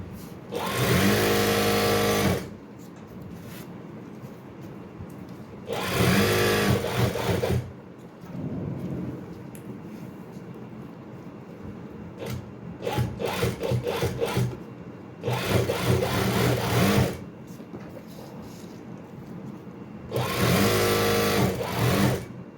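A sewing machine stitches a kurta seam in bursts, running loud for a few seconds at a time with pauses between, the whirring motor and needle close and clear.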